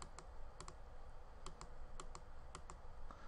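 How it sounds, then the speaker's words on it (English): A Logitech Anywhere Mouse MX right button being clicked repeatedly, a dozen or so close, crisp taps, often in quick doubles, with steady room hiss underneath. "and this is right clicking."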